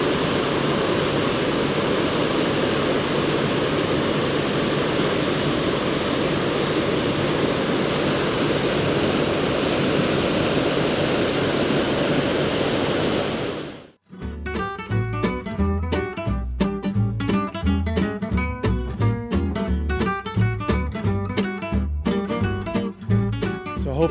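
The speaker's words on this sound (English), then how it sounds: "it might get kind of loud here because the engines are running back here and the water is swirling around" Twin boat engines and churning water roar behind a boat cruising the fjords of Tierra del Fuego, a loud, steady rush that ends abruptly after about fourteen seconds as music takes over.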